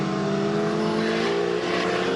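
A Spec Corvette race car engine at Buttonwillow Raceway Park drones loudly and steadily at close range, a sustained harmonic roar that climbs only slowly as it struggles to accelerate.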